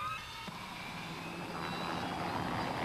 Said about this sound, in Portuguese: O helicóptero levará o transgressor para um lugar distante dentro do parque